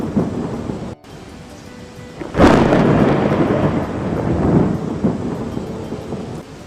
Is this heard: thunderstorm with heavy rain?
yes